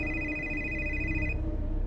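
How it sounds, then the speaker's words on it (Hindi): A phone rings with an incoming call as a sound effect in a Hindi audio horror drama, a steady electronic ringtone tone repeating for over a second under a low background hum before cutting off near the end. "इंस्पेक्टर के फोन पे विधायक प्रशांत सिंह का कॉल आ रहा था"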